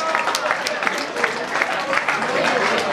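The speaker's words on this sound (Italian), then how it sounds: "facciamo un applauso" Audience applause with steady clapping throughout, moderately loud, mixed with crowd noise and some voices.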